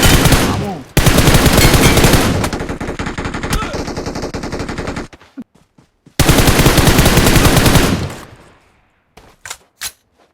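Gunfire in the PUBG Mobile video game, long loud bursts of rapid automatic fire broken by short pauses and a few trailing single shots.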